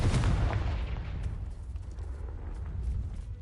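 A Confringo blasting spell goes off in the video game Hogwarts Legacy, a deep rumbling explosion that opens loud and then rolls and decays over a few seconds without any voice.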